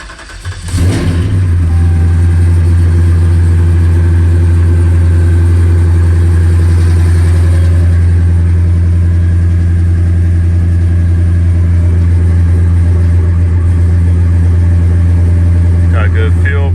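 A supercharged 2013 Dodge Ram single cab, fitted with a TRX supercharger and a muffler at the rear, cranks and fires within the first second. It then holds a loud, deep, steady rumble close by with slight rev swells.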